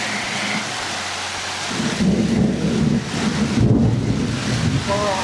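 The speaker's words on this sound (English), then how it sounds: "It's very thundery and rainy right now, if you couldn't tell" A thunderstorm rumbles with a long roll of thunder over steady heavy rain pattering on surfaces, loud and continuous.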